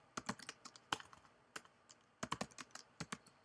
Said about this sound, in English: what I typically do is just go straight to Google, and like I will type in Google